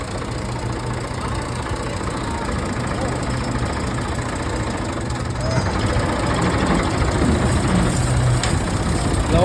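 A Ford 3610 tractor engine runs steadily with a loud, rough, low diesel rumble and a knocking texture, growing somewhat louder about halfway through.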